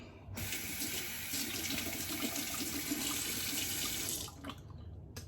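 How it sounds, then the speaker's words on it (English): A cold water tap runs into a sink for rinsing after a shave with a vintage Gillette Slim Adjustable safety razor, a steady close hiss that starts abruptly, holds for about four seconds, then cuts off. "Now I'm going to rinse off with cold water"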